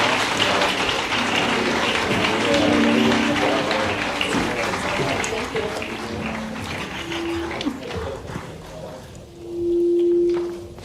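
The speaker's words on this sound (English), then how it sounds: "Let's give them a round of applause." Applause for senators at a White House summit on child care and paid leave, a broad wash of clapping that fades out, followed by a sustained electronic tone.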